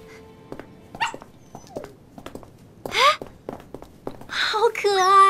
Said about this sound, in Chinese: 哎，好可爱啊，有一只小狗。